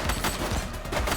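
Gunfire in the police video game The Precinct: a dense, loud burst of rapid shots that fills the whole moment without a break.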